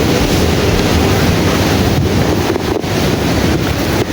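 Strong wind roars across the microphone in a constant heavy rush, buffeting loudly throughout with brief gusty dips.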